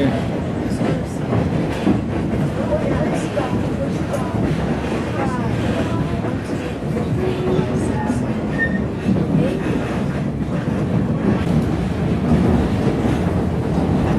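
A White Pass & Yukon Route Railroad train rumbles steadily along the rails between Skagway and Summit, with wind buffeting the microphone throughout.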